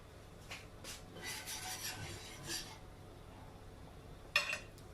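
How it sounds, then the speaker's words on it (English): A spoon or whisk rubs and scrapes through flour cooking in a pan for macaroni and cheese, soft rasping strokes for a few seconds, then a brief sharper clink of utensil against the pan. "now we're going to cook off the flour"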